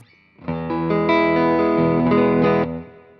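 A sustained electric guitar chord through a Tank Zentro overdrive pedal rings out with a gritty, lightly overdriven tone, swelling in after a brief pause and fading near the end.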